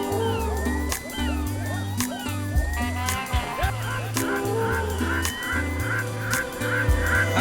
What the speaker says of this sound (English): These are birds, and birds are not freaky or unique.